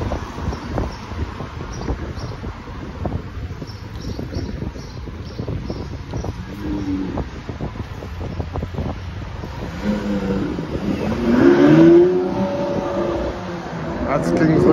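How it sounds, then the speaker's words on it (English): A footballer's car speeds past on a Paris street, its engine and tyre noise rising to a loud rush before fading, with city traffic rumble and nearby voices underneath. "That's KINGSLEY COMAN’S car, but I think it's going too fast for me."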